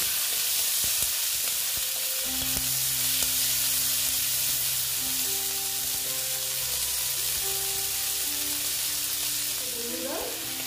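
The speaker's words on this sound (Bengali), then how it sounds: "পেঁয়াজটাকে একটু টাইম নিয়ে ভাজতে হবে।" Onion frying in a pan for an egg and potato curry gives a steady broadband sizzle throughout, with a few faint tonal kitchen sounds and occasional stirring underneath.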